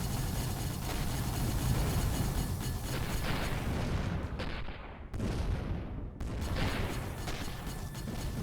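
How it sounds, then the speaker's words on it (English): Tracer rounds firing in the space game Avorion, a dense continuous stream of rapid shots and booming impacts, loud and close, briefly cutting out before resuming at full intensity. "There's just something about tracer rounds firing all over the place."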